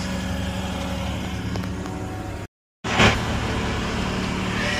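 A vehicle engine idles steadily just after its fuel pump was replaced, a continuous close rumble broken by a short gap of silence before it resumes with a brief rise.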